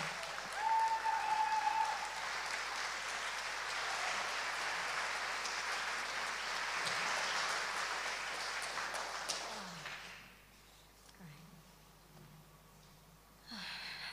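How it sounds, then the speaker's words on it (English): An audience at a poetry event applauds warmly for poet Hollie McNish, a dense, sustained clapping that fades out after about ten seconds into quiet room tone with a few scattered sounds. "If you could give a warm round of applause to Hollie McNish."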